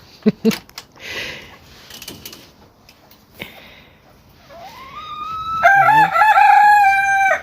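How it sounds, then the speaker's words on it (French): A rooster crows once, loud and close, in a rising then sustained call near the end, after scattered soft clucks and rustling knocks from backyard poultry in the early morning dark. "Ah, vous entendez le coq."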